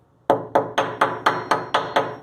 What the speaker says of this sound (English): I've also tried using a hammer a little bit.